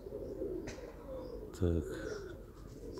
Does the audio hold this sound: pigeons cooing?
yes